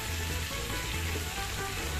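Long-sliced onions fry in a pan, giving off a loud, dense, unbroken sizzle close up, with faint bubbling and crackle underneath.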